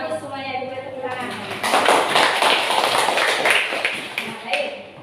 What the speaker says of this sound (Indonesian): Nah, bagus semuanya, diberi tepuk tangan.